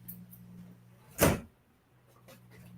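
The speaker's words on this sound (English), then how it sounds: "I'm just going to shut the window." A window shuts indoors with one short, sharp slide and thud standing out from a quiet room, followed by faint background noise.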